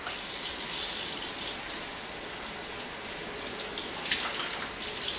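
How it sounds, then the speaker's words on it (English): Cold tap water runs steadily over fresh broccoli in a kitchen, making a continuous close hiss and spatter with no talking. "We're going to quickly rinse off this broccoli with some cold water."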